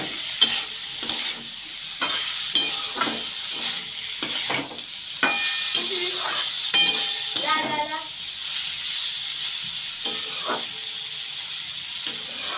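Fenugreek greens and previously fried eggplant stir-fry in a pan, with a continuous sizzle broken by repeated spatula scrapes and clacks at close range, steady and fairly loud.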